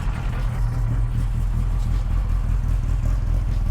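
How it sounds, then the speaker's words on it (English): A 1965 FIA-registered rally Mini Cooper S runs with a steady, loud mid-pitched engine drone and high-performance clutch, heard continuously up close from inside the car with no talk. "You can hear the high performance clutch."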